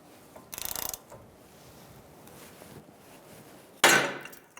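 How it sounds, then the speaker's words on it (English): Two sharp metallic bursts from a tool separating a lower control arm from a ball joint on a 2000-2007 Ford Taurus, a brief clattering strike first, then a louder bang, with quiet garage ambience between. "So I'm using this tool to separate the lower control arm from the ball joint."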